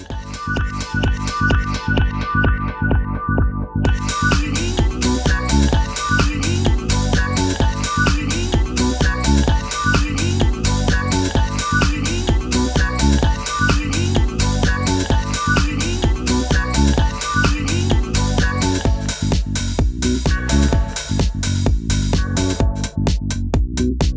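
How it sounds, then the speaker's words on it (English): A steady, driving old-school house beat built from samples, with punchy kicks and crisp hi-hats under layered sampled chords, playing continuously and loud throughout. "You grab all these components and you put them together"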